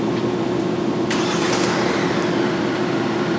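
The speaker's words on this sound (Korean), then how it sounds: "그래서 이럴 때는 원격 시동을 걸고" A new Hyundai Santa Fe starts by remote start. Its engine catches about a second in and settles into a steady, loud idle heard close by.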